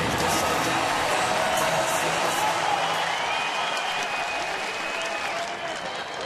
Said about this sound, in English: Brett Lawrie got a nice reception from the crowd here